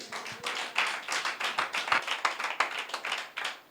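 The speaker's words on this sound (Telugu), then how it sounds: "చప్పట్లు కొడదాం దేవునికి" Steady rhythmic clapping by a church congregation continues throughout, sharp repeated claps at an even pace with no talking.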